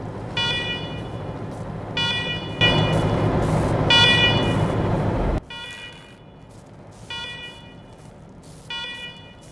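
Electronic alarms blaring in the video game Wasteland 3, repeated harmonic buzzing blasts in regular bursts over a loud rumbling background that drops away midway, with the alarm pulses continuing more faintly afterward.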